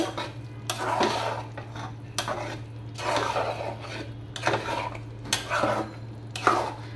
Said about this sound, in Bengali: আর এই চিকেনটা হচ্ছে আমি এখন ভালো করে মিক্সড করে নিব।